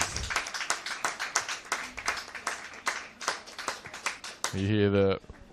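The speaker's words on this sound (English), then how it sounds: "You hear the warm round of applause as Monty, she is affectionately known, Ellie Lamont, heads towards the sideline." Spectators at a women's NPL Victoria soccer match between FC Bulleen Lions and Preston Lions give scattered, moderate clapping as a player heads off the pitch, heard under a commentator talking.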